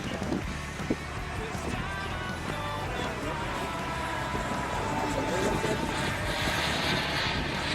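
A Boomerang MB-339 model jet flies at just below half throttle with full flaps, its steady engine whine carrying at moderate distance over wind for the whole stretch.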